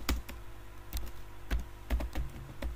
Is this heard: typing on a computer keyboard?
yes